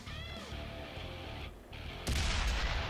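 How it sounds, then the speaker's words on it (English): A tank's main gun fires once in a Type 64 match, a loud, sharp blast that breaks in after a stretch of steady engine rumble and then rings out with a broad roar. "Just trying to randomly shoot."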